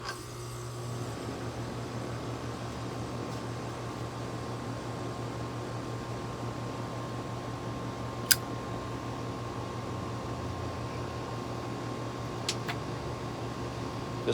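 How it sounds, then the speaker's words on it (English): A home air conditioner drones with a steady low hum and an even wash of airy noise throughout, joined by a couple of brief faint clicks and no talking. "This portion of the program is brought to you by my air conditioner, and the noise is dedicated to Higgy Baby, Cliff Higgins, because he loves it."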